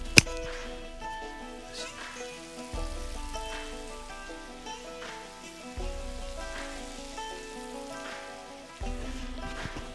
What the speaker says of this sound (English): That is the sound of a roast vegetable dinner with beef pot pies.